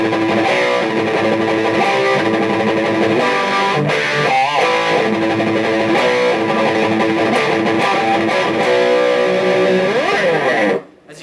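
Distorted, boosted electric guitar plays sustained chords and bends, loud and continuous, cutting off abruptly near the end.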